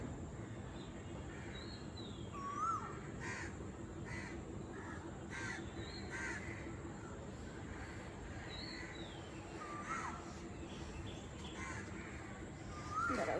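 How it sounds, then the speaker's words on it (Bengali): Several crows caw outdoors, a few distinct calls rising over a steady background hum, moderately near and spaced across the stretch with no talking. "কাক দেখেছো আকাশে"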